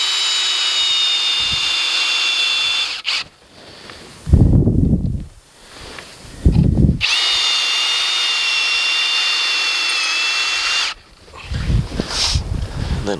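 A power drill whines steadily as long screws are driven through a stucco wall to mount a drop shade, in two sustained runs broken by rustling handling noises.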